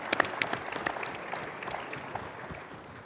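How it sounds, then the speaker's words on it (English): An audience claps for the speaker's two young daughters at an entrepreneurial event, a moderate round of applause with a few sharp nearby claps at the start that settles into a softer, steady patter. "How about a round of applause for my daughters here"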